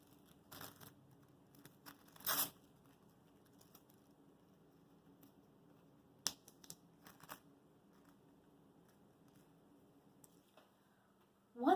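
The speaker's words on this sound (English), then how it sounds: "you can go ahead and tear it." Colored tissue paper torn by hand for a suncatcher craft gives a few faint, brief rips and crinkles scattered among long quiet gaps, with soft ticking handling noises close by.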